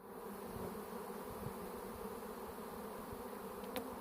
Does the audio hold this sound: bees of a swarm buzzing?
yes